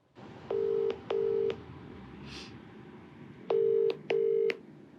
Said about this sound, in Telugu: సో నెంబర్ ఇచ్చిందండి, నేను కాల్ చేసాను.